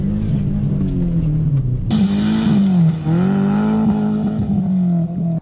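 A Subaru rally car revs hard while drifting on ice, its engine rising and falling in pitch through repeated throttle bursts, loud and close, with a sudden jump in intensity partway through and no talking.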